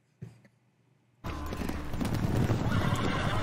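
Horses on a cattle drive: a short whinny, a pause, then a continuous run of clip-clopping hooves that grows steadily louder and busier, close by, with no talking.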